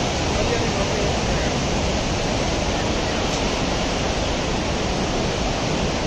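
The Melamchi River in Nepal, swollen by flood, gives a loud, constant roar of rushing water, a dense, unbroken wash with no pauses from start to finish.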